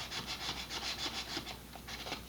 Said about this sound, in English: getting rid of the burrs and smoothing this out on the flat pieces isn't bad